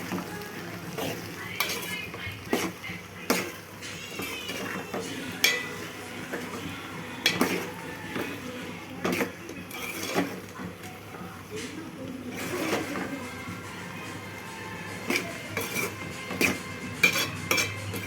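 Spoon scraping and clinking against a pot while chilli powder and salt are mixed into a potato tomato curry, repeated sharp taps in an uneven rhythm with a faint sizzle and someone talking over it.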